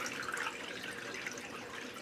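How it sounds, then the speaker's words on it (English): Water draining from a wet wig in a basin, a steady continuous trickle and splash with faint dripping, moderately close and without speech. "just let the excess water drain out of the wig."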